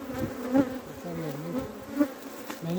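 Honey bees buzz steadily around a spring beehive near lemon trees, a close, continuous droning hum with a few louder passes near the microphone.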